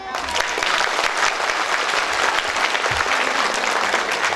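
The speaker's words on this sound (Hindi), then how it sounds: "तालियां।" A large congregation at a prophecy and healing festival in Agartala, Tripura, claps loudly and continuously, a dense, even wash of applause lasting over four seconds.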